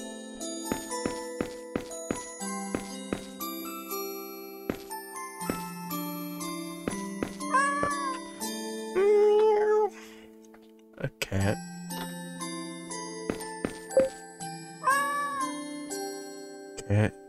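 A wounded stray cat meows in a video game, with repeated high meows over chiming, tinkling game music while a person talks.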